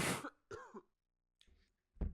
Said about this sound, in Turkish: Bir de öksürüyor ya.